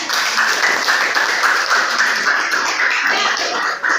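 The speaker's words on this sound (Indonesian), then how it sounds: "Tepuk tangan dulu untuk teman-temannya." Students in a classroom applaud their classmates during a lesson, with brisk, even clapping filling the room for several seconds.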